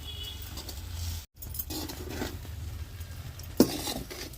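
Utensil scraping and stirring through a puffed rice uggani mixture in a pan, a steady close scrape with light clinks and one sharp clatter near the end, no voices.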